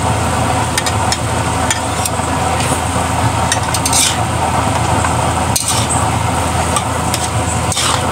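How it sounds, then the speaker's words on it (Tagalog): Spoon or spatula stirring ground pork giniling with tomato paste and sliced hotdog in a frying pan, a steady close scraping and soft sizzle running continuously with a few sharp clicks of utensil against the pan. "Haluin na naman po natin."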